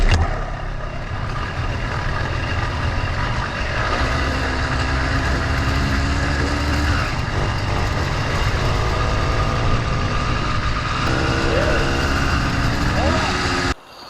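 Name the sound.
motorized bicycle engine starting and running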